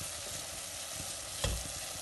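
Peas heating in a soffritto of oil and onion, a soft continuous sizzle with faint stirring and a brief scrape near the end, quiet and close.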